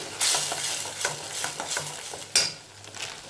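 Sliced onions fry in a pan with turmeric powder for onion rice, a close steady sizzle broken by repeated scraping stir strokes of a spoon against the pan, with one sharper clatter near the end.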